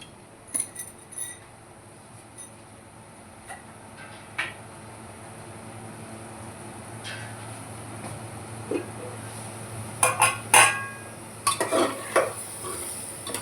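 Stuffed tinda sizzles softly in a pan while being stir-fried, punctuated by scattered spatula scrapes and metallic clinks that cluster toward the end.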